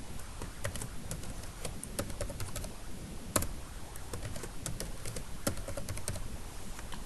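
Fingers typing a password on a computer keyboard: a steady run of quick, light key clicks close by, with slightly uneven rhythm and no voices.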